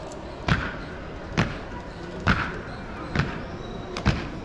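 Ceremonial guards at the Atatürk Mausoleum shouldering rifles in drill: five sharp, evenly spaced thuds under a steady murmur, about once a second.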